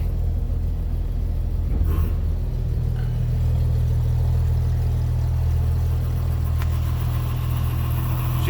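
A 1954 Chevy truck engine runs steadily with its PTO engaged to drive a hydraulic dump bed, a continuous low rumbling drone with a faint whine and a couple of brief clanks, close by and unbroken by speech.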